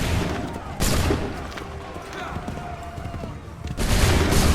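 Musket volleys fire during the Lexington and Concord battle in the video game Assassin's Creed 3, as two loud, booming bursts of gunfire about three seconds apart with lower battle noise between them.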